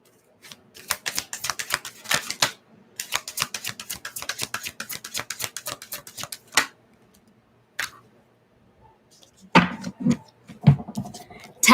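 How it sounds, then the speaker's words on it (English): A deck of message cards is shuffled and cards pulled, rapid crisp riffling clicks in bursts, then scattered single snaps and slides close by, no voices. "I'm going to pull some message cards right now."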